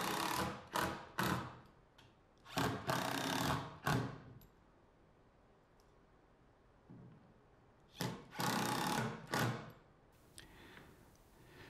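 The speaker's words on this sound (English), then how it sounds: "My dado blade is not wide enough to do it in one pass, so I snuck up on it until I got a good snug fit." A dado blade cutting a dado for T-track in wood on a table saw, several loud bursts of whining cutting separated by quieter gaps of spinning-down hum.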